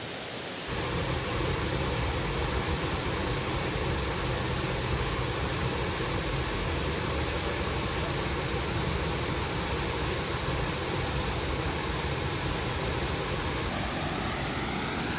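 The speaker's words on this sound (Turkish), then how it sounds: "İşte Ilıca Şelalesi." Ilıca waterfall at the end of Horma Canyon pours in a constant, close, full-bodied rush that starts abruptly and holds steady without a break.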